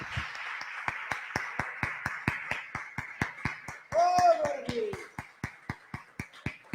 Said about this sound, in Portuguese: Então vamos dar um aplauso ao Senhor